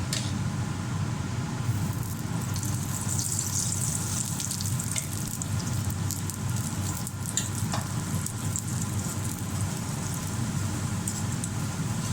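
A moong dal paratha sizzles steadily in ghee on a hot pan, a continuous close frying hiss with faint crackles and no talking.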